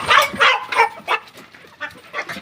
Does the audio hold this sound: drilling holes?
no